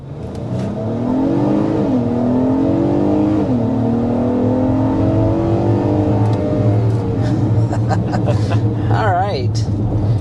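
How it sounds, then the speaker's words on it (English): A refreshed Acura MDX V6 SUV accelerates hard up to 55 mph, its loud engine note climbing steadily through the gears with a brief shift dip, close and continuous, with a voice briefly heard near the end. "Here's a quick acceleration up to 55 miles per hour in the refreshed Acura MDX."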